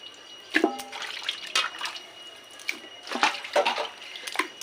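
Tap water running and splashing in bursts while raw goat meat is rinsed and washed by hand, close and moderately loud, with drips and intermittent splashes and no talk.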